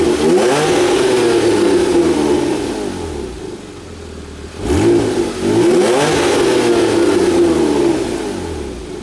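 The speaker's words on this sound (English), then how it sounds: "So that's a couple of revs with it in off." A Porsche 981 Cayman GT4 with an iPE exhaust, valves closed, revs loudly in a couple of rising and falling blips, then settles toward idle between pushes.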